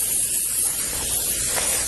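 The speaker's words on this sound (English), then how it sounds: "I'm using the olive oil baking spray." Olive oil baking spray hisses steadily from an aerosol can onto a baking sheet in a kitchen, a close, continuous spray lasting about two seconds with no talk.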